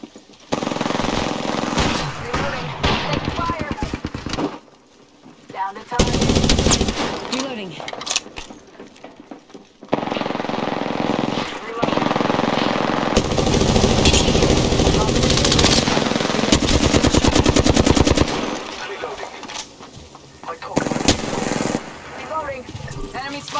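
Rapid automatic gunfire in the battle-royale shooter Apex Legends, in long loud sustained bursts with brief pauses between them, close and dominant, with short gaps of quieter game sound.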